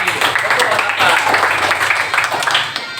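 Primary school class of children clapping their hands together in a classroom, a dense, lively patter of many claps under loud chatter and voices, continuing for the whole stretch.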